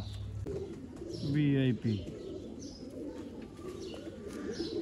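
Pigeons coo in a game setup, with a loud, close run of throaty coos in the middle, softer chirps and calls around it, and people talking in the background.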